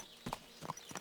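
Horse hooves clip-clop on the ground in Kingdom Come Deliverance 2, with three quick distinct steps, faint and a little distant.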